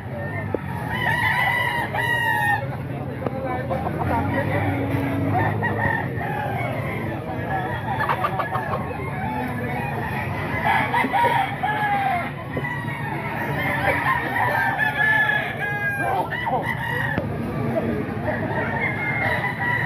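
Roosters crow and chickens cluck steadily in a crowded fowl market where quality gamecocks are for sale, with a dense bed of overlapping bird calls and people talking under them throughout.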